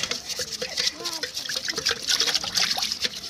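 Water trickles and pours from a machine in a home kitchen where saag is being cooked, a light splashing stream heard close under a quiet background.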